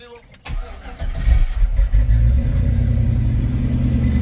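An LS-swapped Chevrolet C10 truck cranks and fires, the engine catching with a sharp burst and then settling into a loud, steady idle close by.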